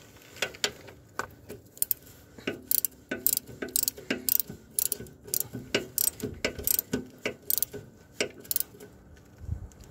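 A ratchet fitted with a square socket tightens the rear-end drain plug on a Case Ingersoll tractor, giving bursts of quick, sharp clicks with short pauses between them, up close and with no talk.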